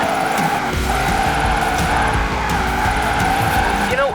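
Tyres on a car in Forza Horizon 4 screech continuously as it drifts, a loud sustained squeal riding over a steady engine roar with shifting pitch.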